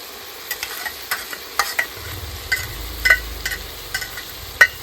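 Meat frying in a pan with ginger garlic paste, soft continuous sizzle under a series of sharp scraping and stirring clacks from a utensil against the pan, close and irregular.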